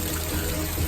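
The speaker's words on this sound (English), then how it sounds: "I'm getting wet because it's pouring a lot and it's super cold." Heavy rain pours on a very cold day as a dense, steady, loud hiss with no talking.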